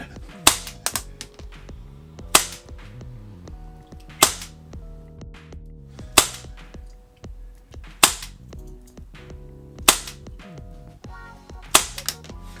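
Tokyo Marui V10 ultra compact airsoft pistol fired on green gas: seven sharp, loud cracks spaced about two seconds apart, each with a brief mechanical clack of the slide cycling, and no talking.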